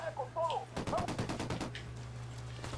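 Gunfire in the Ghost Recon Wildlands video game, a burst of rapid shots cracking in quick succession over a low steady hum, with a voice talking briefly at the start.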